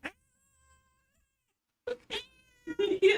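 A cat held in someone's arms like a baby lets out a few short meows near the end, after a quiet stretch.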